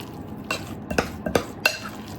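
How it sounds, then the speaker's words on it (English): Spoon stirring seasoned BBQ pork coated in Stubbs barbecue sauce, four distinct scraping clinks against the bowl spaced about half a second apart over a quiet background. "So just gonna mix it all up real good, make sure every little bit is covered"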